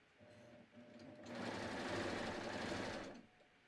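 A sewing machine stitching a band onto a knit sleeve gives a steady, close whirring burst of about two seconds, with quieter mechanical ticks and hum before and after.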